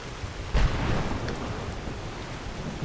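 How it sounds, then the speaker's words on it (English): A summoned lightning storm in a video game: steady rain hiss with a loud crack of thunder early on, followed by a rolling rumble that settles back into the continuous downpour. "I can't see anything in this lightning storm I summoned in."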